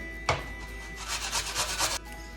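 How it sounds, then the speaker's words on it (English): Food rubbed against the small side of a hand grater, part of making Greek turkey burgers: a steady run of rasping strokes, close and fairly loud, with no talking. "I'm gonna use just the smaller side of a grater"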